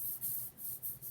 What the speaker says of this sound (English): I'm just going to burnish that a little.